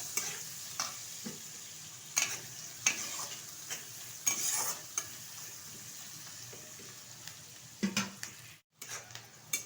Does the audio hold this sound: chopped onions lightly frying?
yes